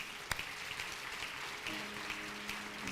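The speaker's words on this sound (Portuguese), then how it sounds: "Você pode aplaudir ao Senhor por isso?" Church congregation applauding, a faint, distant patter of clapping with a sharp knock near the start and a low hum running beneath.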